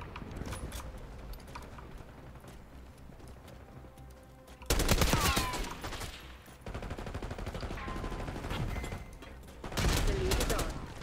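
Heavy automatic gunfire and fusillades rattle through a Call of Duty: Black Ops 6 online match, steady at first then bursting louder in two dense barrages, with game voices talking underneath.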